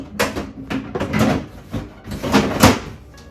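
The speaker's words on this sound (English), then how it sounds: "I'm going back in with my first drawer that I already washed" A washed plastic refrigerator drawer slides back into a fridge with a string of scraping, clattering bumps as it is pushed into place, close up and with no talk.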